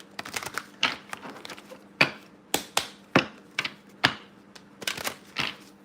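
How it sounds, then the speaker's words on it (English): Tarot cards are shuffled by hand close up, giving a run of crisp riffling snaps and soft slaps in an uneven rhythm, with quiet pauses between bursts. "Cards are shuffling nice."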